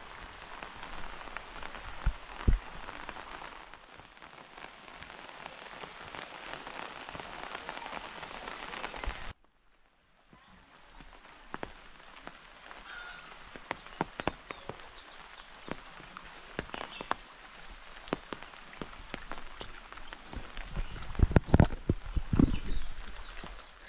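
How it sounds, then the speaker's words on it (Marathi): Steady village rain patters on surfaces in the morning cool, a soft continuous hiss with scattered louder drips, briefly dropping out before resuming, no talk over it. "जरा पाऊस पडलाय, थंड थंड थंड आहे सर्व"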